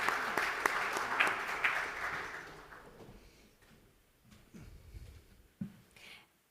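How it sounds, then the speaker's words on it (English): Applause from an audience for the speakers at an energy storage forum session, a moderate patter of clapping that fades out over several seconds, leaving faint room noise and a few small knocks. "But please give a round of applause again to our speakers."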